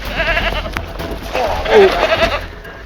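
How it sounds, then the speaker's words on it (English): A wild, woolly Barbary sheep bleats once at a zoo during attempted sedation, a short wavering cry amid restless handling noise and a nearby voice. "unable to effectively sedate a wild and woolly Barbery sheep"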